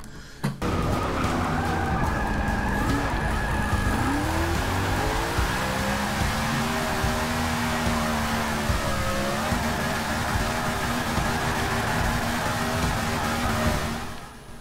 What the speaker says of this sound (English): Well, that was a pretty long drift.